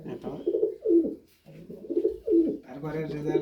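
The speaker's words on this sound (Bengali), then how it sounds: "এটা অনেক সুন্দর একটা কবুতর" Racing pigeons coo in a loft, their soft throaty calls repeating in rhythmic bursts at close range, with people talking nearby.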